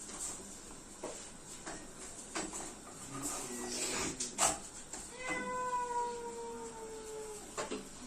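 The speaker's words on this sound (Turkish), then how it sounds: "Yaşlı bir kedi var. Büyük kedi geldi." An old, large cat meows repeatedly, some calls drawn out and wavering, with faint outdoor rustling and clatter in between and no talking.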